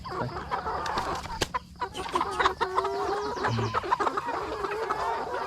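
Chickens cluck busily at a Lao farm where feed is left out for them to eat freely, a dense overlapping chorus of hen calls with occasional sharper squawks, fairly close and steady throughout.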